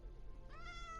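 A cat gives a single short, fairly quiet meow that rises in pitch near the end, with no talking.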